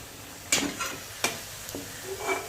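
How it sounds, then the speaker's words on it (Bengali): Onion fritters (piyaji) fry in hot oil at a street food stall with a low sizzle, broken by three or four sharp scraping clanks of a utensil stirring the pan. "পেঁয়াজি একই রকমভাবে ভেজে নেওয়া হবে"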